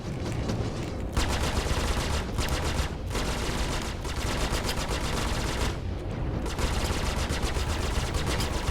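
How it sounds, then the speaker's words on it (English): Rapid bursts of spaceship cannon fire in the space combat game Star Citizen, dense and continuous with brief gaps between volleys, loud and close throughout. "This is the one that was firing at us while we were shooting at him"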